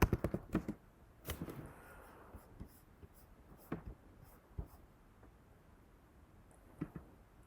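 Someone types a search on a computer keyboard: sparse, quiet key clicks and taps, a small cluster at the start and scattered single presses after, with a faint background hiss.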